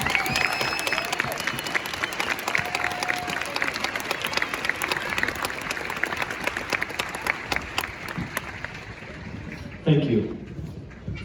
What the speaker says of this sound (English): please join us in a round of applause for these veterans